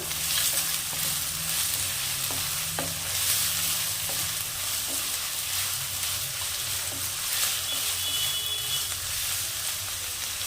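Leftover rice pulao being stirred in a hot pan over a medium-high gas flame, with a steady sizzle and repeated scraping strokes of the spatula throughout, close by and with no talking.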